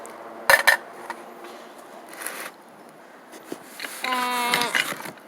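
Metal carburetor bowl being fitted back onto a carburetor during assembly, with a couple of sharp metallic clinks near the start, soft handling scrapes, and a brief rattling, ratcheting run of clicks toward the end, close up.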